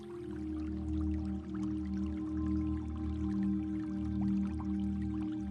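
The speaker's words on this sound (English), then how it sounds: "just the soft echo of water" Water drips softly and echoes in a spa pool, scattered faint drops over a steady, low, humming ambience with no voices.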